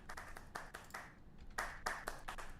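Scattered hand claps at a VR metaverse summit event come in quick uneven bursts, fairly faint and thin, with brief pauses between the patters and no voices over them.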